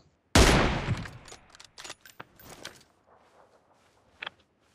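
A single loud gunshot in PUBG Mobile with a long ringing decay, followed by softer scattered clicks and thuds of in-game movement and a faint later crack.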